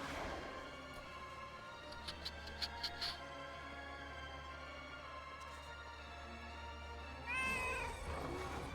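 A cat meows in the video game World of Warcraft: a few short, faint mewing calls near the start, then a longer, louder cry close to the end over a low ambient hum.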